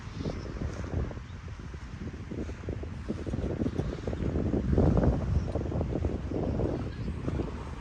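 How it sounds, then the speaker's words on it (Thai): Strong, cold wind blows outdoors in an open field, a loud, rough rumble and buffeting against the microphone that swells and eases over several seconds without a break. "ลมวาบมากจริงครับ"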